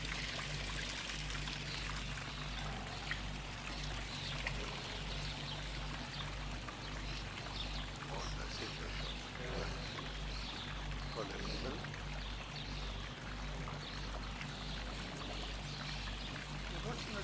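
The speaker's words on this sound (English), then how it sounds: "Today you just let the water in." Water being let into an orgone cloudbuster setup, pouring and trickling steadily throughout, with a low continuous rumble and hiss beneath.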